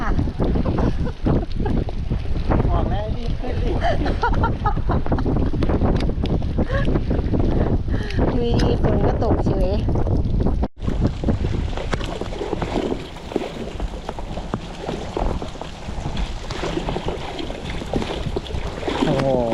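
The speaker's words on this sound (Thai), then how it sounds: "ดูพายุมาแล้วค่ะ" Strong storm wind buffets the microphone on a boat fishing a reservoir, a continuous roaring rush with gusty swells, and a voice speaks over it intermittently.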